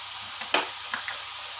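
A curry of tender tamarind leaves and eggs simmers in a pan. A soft, steady sizzle is broken by a few stirring scrapes, with no talking.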